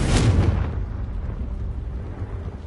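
Confringo spell cast in Hogwarts Legacy, a loud fiery blast that bursts at once and then rumbles and fades over a couple of seconds.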